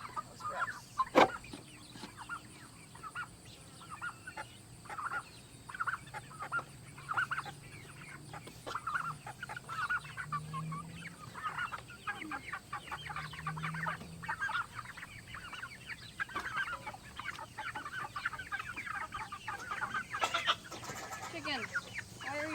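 Hens on a small farm cluck and chatter close by in a steady busy stream, with a few sharper calls, while someone talks briefly in the background.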